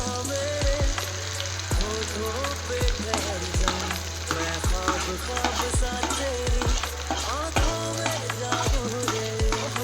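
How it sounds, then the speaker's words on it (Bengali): Green pea paste frying in a pan with a steady, close sizzle while a spatula scrapes and stirs in regular repeated strokes, for Bengali koraishutir kochuri filling; no talking. "এখন আমি ভালো করে এটাকে ভেজে নেব"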